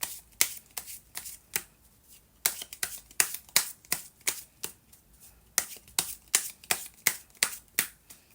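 Tarot cards shuffled by hand, with crisp riffling snaps and flicks repeating in quick irregular bursts, close and clear, with no voices.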